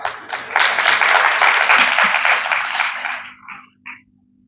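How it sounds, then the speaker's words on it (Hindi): A crowd applauds at a public lecture in Mandsaur on India's constitution, with dense clapping that builds quickly, holds for about three seconds, then tapers off into a few last scattered claps. "इतनी तल्लीनता के इतना गंभीरता के साथ मत सुनिएगा कि आपकी तालियां ना बजे"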